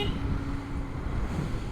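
Road traffic in a jam near the Kazipara rail gate, heard from a motorcycle, makes a continuous low rumble of idling and creeping engines with wind noise and faint distant honks.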